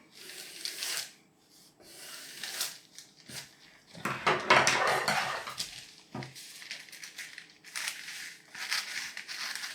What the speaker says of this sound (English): And cut that out with your scissors.